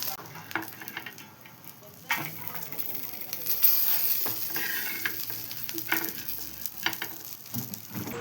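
Stuffed green chillies frying in oil give a soft, continuous sizzle with intermittent crackles and pan clinks, fairly quiet and close, with a few faint words spoken in between.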